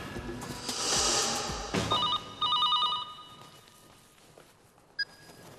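An electronic telephone rings with a few quick warbling bursts in the middle of the clip, moderately loud over a soft room background, followed by a single short beep near the end.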